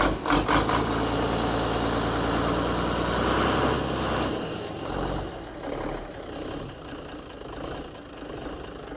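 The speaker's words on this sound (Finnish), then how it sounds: "Scania diesel." A Scania diesel tractor engine idles steadily with a low, even rumble and rhythmic knocking; it drops back partway through and carries on more quietly.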